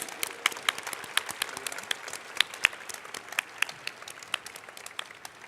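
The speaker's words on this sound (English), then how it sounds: "Let's give them another round of applause, please." A standing audience applauds organizers at a closing ceremony, sparse but continuous clapping with individual sharp claps popping out, moderately distant and fairly quiet.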